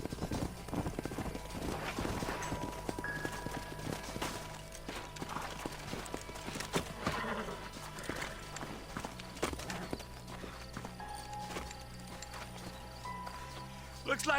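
Horses in the Red Dead Redemption video game, remastered on PS4, clip-clopping along at a steady pace amid a busy mix of game sounds, with a whinny or two, fairly quiet throughout.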